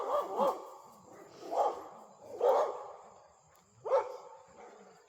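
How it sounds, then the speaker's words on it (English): Several dogs bark in short bursts, about four distinct barks spaced a second or so apart, moderately distant with some echo. "We got all the dogs barking in the neighborhood."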